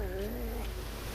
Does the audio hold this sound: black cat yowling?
yes